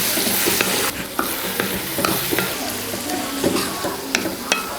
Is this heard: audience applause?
no